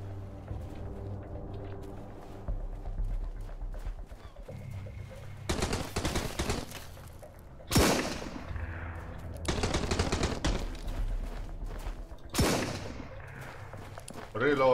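Repeated bursts of automatic gunfire from the survival video game Sunkenland, loud and close, in several sustained volleys separated by brief pauses over a low rumbling background, with a voice speaking at moments.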